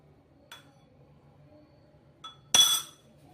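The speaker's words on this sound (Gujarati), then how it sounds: "તો બધી વસ્તુને મિક્સ કરી લેશું." A spoon clinks against a bowl while spice powders and black pepper are mixed for an aloo paratha filling. There are three separate taps, two light and one sharper and louder near the end, in an otherwise quiet kitchen.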